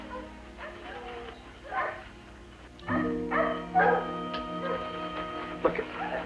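A dog in an animal shelter yips and barks in short bursts with some whimpering, moderately close, mixed with other background noise and voices.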